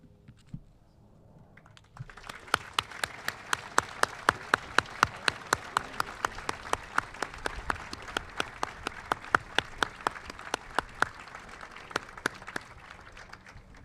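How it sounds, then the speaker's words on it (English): An audience at a U.S. Army Best Medic Competition awards ceremony breaks into applause after a quiet start, a steady patter of claps in which single sharp hand claps stand out, sustained to the end. "let's give one final round of applause for the winners"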